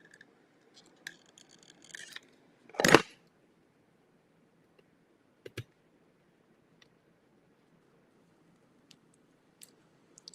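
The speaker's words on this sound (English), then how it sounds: "I don't want all of that, so I'm going to just snip it off." A pair of scissors snips off a strip of craft card in one sharp, close cut, surrounded by a few soft paper clicks and handling taps in an otherwise quiet room.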